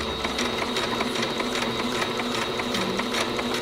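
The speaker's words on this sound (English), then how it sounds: "Let me back stitch a little bit." A sewing machine runs a short back stitch over jelly tape, giving a steady, rapid mechanical whirr with a fine rhythmic ticking of the needle. It sounds close and continuous, with no talk over it.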